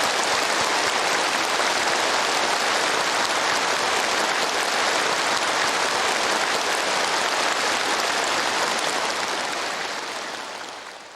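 Thunderous, sustained applause from a large audience fills an assembly hall after a government policy address by Kim Jong Un, a dense unbroken wash of clapping that holds steady and only begins to fade in the last second.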